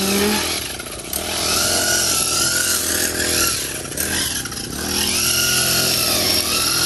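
A grass cutter runs along a roadside cutting overgrown grass, a loud continuous engine drone that rises and dips in pitch as it works, close by and alone.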